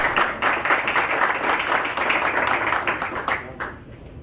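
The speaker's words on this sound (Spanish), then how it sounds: "Un aplauso para Edgar." Applause from an audience after a raffle draw at a business seminar: a burst of close, busy clapping that holds steady, then tapers toward the end.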